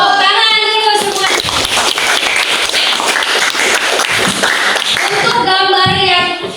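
Indonesian classroom students break into a burst of hand clapping lasting several seconds, with a teacher's voice heard briefly before and after the dense applause.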